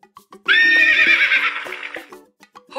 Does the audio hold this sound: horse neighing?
yes